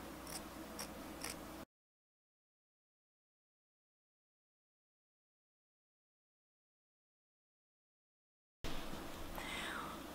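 Scissors cut a fabric strip for cloth period pads, giving three quick, crisp snips close by, then a long dead silence before a soft rustle returns.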